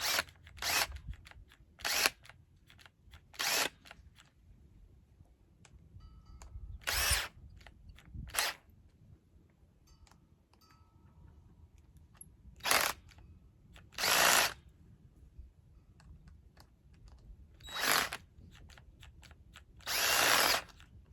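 Cordless drill driving screws into a garden hose fitting, heard as short, loud whirring bursts repeated at irregular intervals, each lasting about a second, with quiet handling noise between them.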